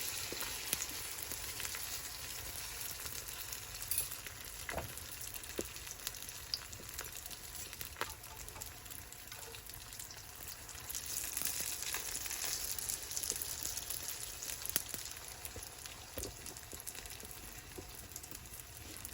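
Brik pastries frying gently in oil over low gas, a steady soft sizzle with scattered small pops and crackles running throughout, no talking.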